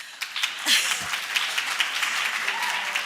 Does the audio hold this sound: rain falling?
no